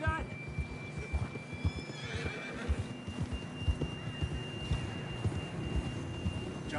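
Horse whinnying with hooves clip-clopping in the Red Dead Redemption 2 video game, a neigh rising over steady hoofbeats and background game sounds at moderate volume.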